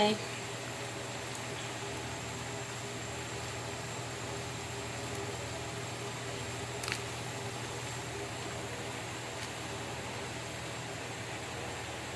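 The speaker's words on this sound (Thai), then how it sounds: "ตอนนี้ก็น้ำเดือดแล้ว ก็ใส่เกี๊ยวลงไป" Soft, steady hiss of water boiling in a pot with dumplings added, continuous and fairly quiet, with one faint click partway through.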